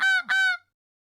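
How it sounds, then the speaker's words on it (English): A goose gives two quick, nasal honks in close succession, near and distinct, followed by silence. "Goose."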